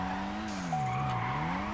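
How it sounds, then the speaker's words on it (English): A quiet high turbo whistle rides over the steady engine drone of a Nissan GTR R35 in GTA 5, a thin sustained tone holding through the second half as the engine pitch dips and recovers. "It's quiet, but I like that turbo. With that little whistle."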